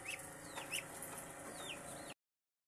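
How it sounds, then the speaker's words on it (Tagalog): A chicken clucks softly in a few short, separate calls over quiet background noise before the sound cuts off. "Ito po yung manok."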